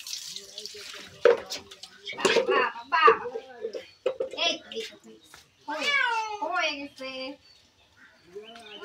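A cat meows repeatedly, drawn-out and complaining, close by while being bathed, as water drips and runs in the background; a person also talks.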